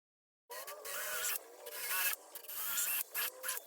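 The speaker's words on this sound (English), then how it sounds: "I sanded off the old finish to help the glue stick." Sandpaper scrapes the old finish off a piece of furniture being upcycled into a TV unit, a close, dry rasping in uneven back-and-forth strokes with a few short pauses.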